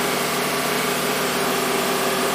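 A 2013 Acura RDX 3.5 V6 runs steadily while being warmed up for a crankshaft relearn after a timing belt and water pump replacement, giving a continuous close engine drone with no talk.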